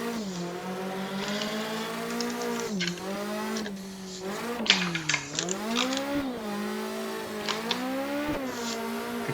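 A car engine holding second gear through a corner at the Okuibuki track, a loud buzzing drone that dips and rises in pitch as the driver eases off and accelerates again, with occasional clicks.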